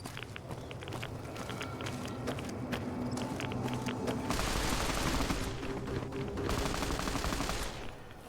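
Turret gunfire in the video game Fallout: New Vegas, a rapid stream of mechanical shots rattling steadily, then giving way to a denser, harsher burst of sustained fire before trailing off, with no voices.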